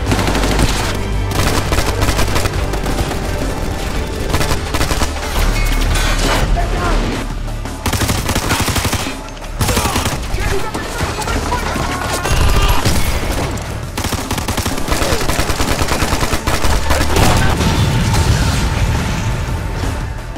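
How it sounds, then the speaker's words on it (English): Big firefight from the final scene of the Ghost Recon Alpha film: continuous loud machine-gun bursts, rapid gunshots and booming explosions packed densely together for twenty seconds with almost no letup. "there's a final scene in the film that comes into a big firefight"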